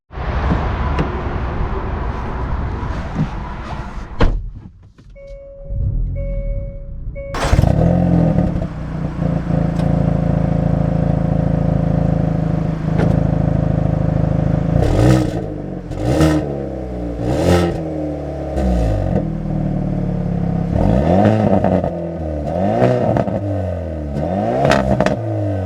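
Hyundai Veloster N with a manual gearbox pulls away after a door thunk and starts up, then drives with a steady engine drone. Loud revving surges rise and fall through repeated gear changes, close and continuous, with no talking.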